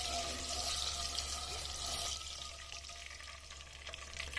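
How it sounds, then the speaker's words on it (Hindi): Whole garam masala and bay leaf frying in oil, a steady faint sizzle over a low hum, easing slightly after a couple of seconds. "अब इस साबित मसाले को इसमें 1 मिनट तक फ्राई होने देना है"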